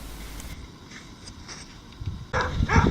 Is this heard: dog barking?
yes